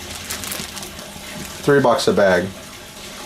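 Bag water being poured into an outdoor pond tub, a continuous splashing trickle that runs under a man's brief speech.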